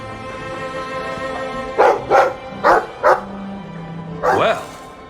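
A dog barks in a video game: five short, sharp barks in quick bursts, close and loud, over a steady musical background, ending with a whine-like yelp.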